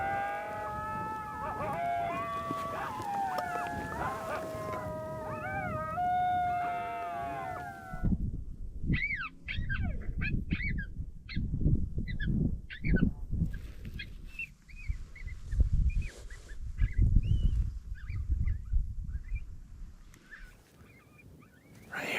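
An electronic predator caller plays a coyote serenade, drawn-out wavering howls for several seconds, then switches to higher, choppy baby coyote pup yips and whines over a rumbling outdoor background, fairly loud throughout.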